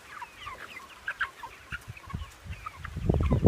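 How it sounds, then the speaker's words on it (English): Broiler chickens near butchering size cluck and chirp softly on a farm, a scatter of short calls over a quiet background, with rising thumps and rustling near the end. "But here are the broiler chickens."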